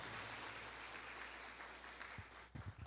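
A church congregation applauds, producing dense, steady clapping that fades slightly toward the end before a few louder nearby sounds.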